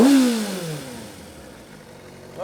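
Kawasaki Ninja ZX-6R 600cc sport bike engine screams at high revs, then drops in a falling whine to a low idle before starting to climb again, loud and close.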